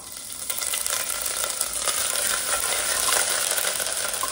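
Crushed cloves, cardamom, cinnamon bits and chopped ginger fry in hot oil in a pan, giving a close, steady, dense sizzle with faint stirring scrapes and no voices.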